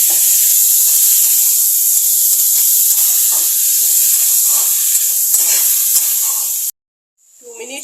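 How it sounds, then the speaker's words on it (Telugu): Grated amla (Indian gooseberry) frying in a hot pan makes a loud, close, continuous hissing sizzle that cuts off abruptly near the end. "తురిమి పెట్టుకున్న ఉసిరికాయ వేసుకోవాలి. ఒక 2 మినిట్స్ ఫ్రై చేసుకోవాలి."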